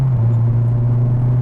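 A car named Patsy with a 1.8 litre 16-valve XU-series engine pulls along in second gear, its engine a steady, loud, low droning hum that holds even throughout with no one talking.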